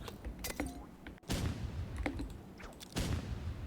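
RPG rocket launcher in the Roblox game Rivals fired in quick shots, three sharp booming blasts spaced about a second apart, each trailing off, with light clicks and game effects between.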